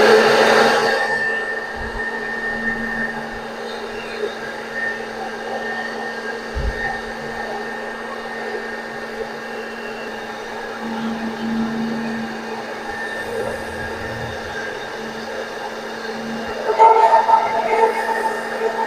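A blender jug runs steadily, grinding milk and oil into eggless mayonnaise, its motor giving a constant whir with small clunks and a brief louder surge near the end; a voice is faintly present.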